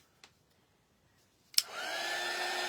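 Quiet room with a couple of faint clicks, then a sharp switch click as a hair dryer starts up and blows a steady whooshing whine, drying paint on a craft door hanger up close.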